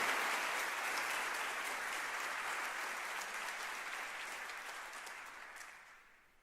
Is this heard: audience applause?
yes